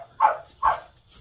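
Two sharp dog barks ring out about half a second apart, moderately loud and close, with quiet room tone between them.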